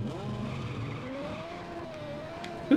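An F1 race car in Just Cause 3 accelerates at high speed, its steady engine whine rising in pitch throughout, fairly loud and alone until a brief sharp clunk at the very end.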